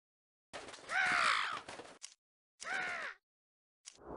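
Crows caw in Disney's Ready For Math with Pooh game garden, three loud, hoarse calls separated by short silences, the first one drawn out and the last clipped short.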